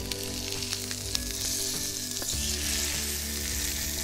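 Fish is flipped in a hot Brabantia frying pan and keeps sizzling, a close, constant crackle and hiss with light scraping and utensil taps as the piece is turned over.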